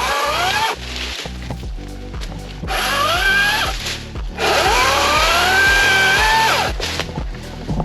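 A Wild Badger 40V electric chainsaw whines close by, its motor revving up and easing off in repeated surges as it cuts.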